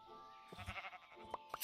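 Sheep bleating in the video game Minecraft, a couple of short nasal bleats over a faint steady background tone, quiet and close, with no talking.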